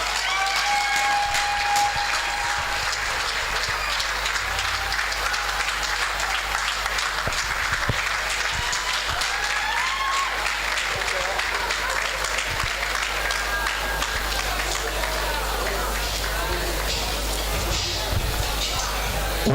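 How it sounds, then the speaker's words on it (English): An audience at an awards conference keeps up sustained applause throughout, a dense wash of many hands clapping, fairly loud and continuous, with some faint voices mixed in under it. "I think it deserves another round of applause"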